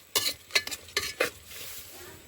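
Rice being stirred with salt and turmeric in a pan, four quick scraping strokes of a spoon close up, each a short bright rasp, followed by a faint lingering hiss.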